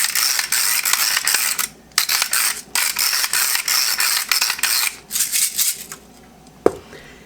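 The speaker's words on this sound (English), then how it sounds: "my pepper grinder from Sterling Top that has a ratchet action on it that's much easier to use" A ratchet-action pepper grinder from Sterling Top cranking black pepper makes bursts of dry ratcheting clicks. They come in quick rhythmic runs broken by short pauses and sound close and fairly loud, and a single sharp click follows near the end.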